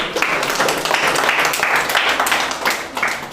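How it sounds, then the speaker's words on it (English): An audience claps steadily through the whole stretch, a dense even patter of many hands in an indoor hall, moderately loud with no voices on top. "Give a big round of applause for her."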